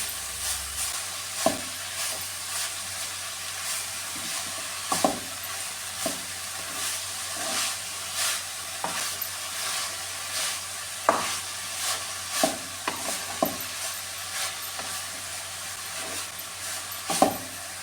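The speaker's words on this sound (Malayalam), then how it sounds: "ഇനി ഇതെല്ലാം കൂടെ നന്നായിട്ടൊന്ന് മിക്സ് ചെയ്ത് കൊടുക്കാനേ" Violet cabbage thoran with ginger being stirred in a frying pan, a steady sizzle under irregular scraping and clinking strokes of the spoon against the pan, close and continuous with no talk.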